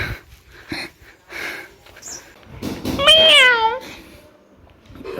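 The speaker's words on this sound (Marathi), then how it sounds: "मांजर बघा भारी आहे एकदम" A tomcat in a village home gives one close, drawn-out meow with a rising and falling pitch, set among soft scuffling and small quiet sounds.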